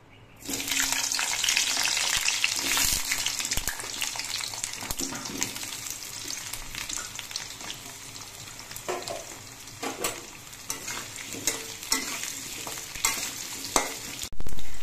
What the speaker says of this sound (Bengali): এবার এই আলুগুলো আমি ভেজে নিচ্ছি।